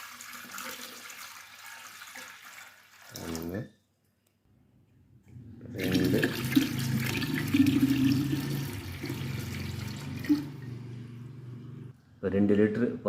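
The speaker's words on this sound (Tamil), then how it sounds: "ஸோ 1 லிட்ரு பாட்டில் அப்படியே 1 லிட்டர் தண்ணி ஊற்றிடுவோம்." Water pours into a one-litre bottle in a steady, close gurgling stream for several seconds, with a person speaking briefly before and after.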